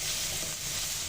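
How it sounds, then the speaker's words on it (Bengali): Marinade spice paste for chicken chaap fries in hot oil, giving a steady close sizzling hiss with no pauses, no speech. "আমার চাপটা ম্যারিনেট করার পরে যে মশলাটা ছিল সেই মশলাটা তেলে ভেজে নিব।"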